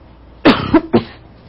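An adult man coughs three times in quick succession, loud and close, indoors during a computer hardware lesson, with no talking over it.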